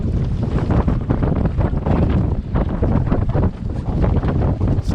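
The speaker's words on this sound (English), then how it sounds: "it's still way too windy to go anywhere" Strong wind buffets the microphone in a loud, continuous, gusty roar, likely aboard a parked boat, with no voices.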